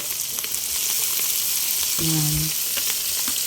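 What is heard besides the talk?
bopis innards frying in a pan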